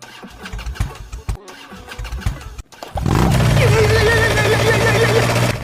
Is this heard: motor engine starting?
yes